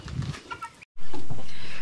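Chickens cluck in a backyard chicken coop, a few close, soft clucks and murmurs, broken by a brief gap before a loud, steady rush of noise takes over.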